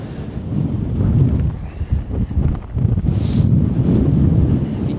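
Strong wind on a Lake District mountain buffets and roars continuously, gusting hard against the microphone with low rumbling turbulence throughout.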